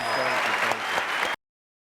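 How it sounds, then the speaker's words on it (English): A brief burst of applause from an audience at PlayStation Experience 2015, cutting off abruptly after a second. "Please give a round of applause"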